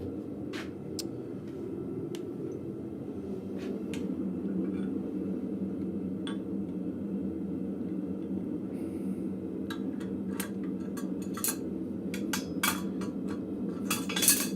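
Hot scrap metal being punched on an anvil in a blacksmith shop, with repeated sharp metallic strikes and clinks over a steady forge roar, heavier clustered blows near the end.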